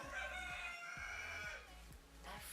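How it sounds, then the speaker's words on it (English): A rooster crows nearby, a drawn-out cock-a-doodle-doo that rises and then trails off, heard alone and fairly quiet. "That freaking chicken."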